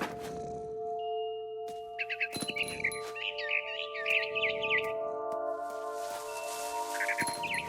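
A frightened barn swallow in a video game gives rapid, high chirping bursts in clusters over a steady low musical hum, the calls close and fairly clear, with occasional soft thuds between them.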